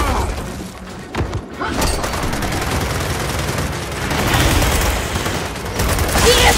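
Fragmentation grenade blast and heavy gunfire in Gears of War 4 on insane difficulty, a dense rolling roar of shots and crashing debris that continues without letup and grows louder toward the end.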